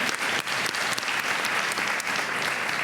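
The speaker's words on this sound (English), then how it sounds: "we're gonna applaud" Steady applause from a crowd at a Board of Education meeting, many hands clapping in a dense, continuous wash that holds at an even level throughout.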